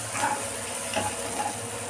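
Spices stirred through a hot pan with Kashmiri chili powder and turmeric, giving a steady close sizzle with faint scraping strokes of a spoon throughout.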